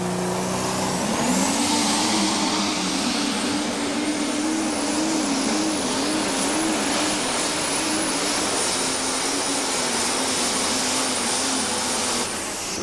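A Case pulling tractor roars loudly and continuously through a pull at a 2007 tractor and truck pulling event in Hillsboro, Wisconsin, its engine pitch wavering and rising steadily, with a high whine above and no talk.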